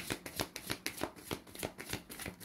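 Tarot cards riffle and snap in a quick, steady shuffling rhythm, crisp and close with repeated papery flicks.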